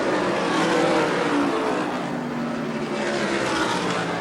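Race cars roar around the 1987 Syracuse oval in traffic, a loud continuous engine drone that swells and fades slightly as the pack passes.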